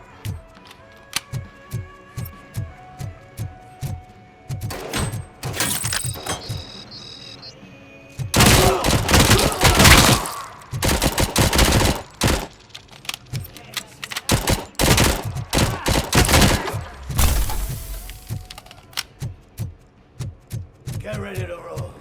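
Gunfire in RoboCop: Rogue City, starting with a steady rhythm of single shots, then dense rattling bursts of automatic fire and loud impacts, with voices shouting faintly between the volleys.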